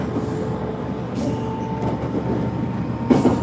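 A train in Japan rolls steadily between stations on a short two-stop ride, a continuous low rumble of wheels and carriage with a faint tonal hum and a couple of brief louder rattles near the end.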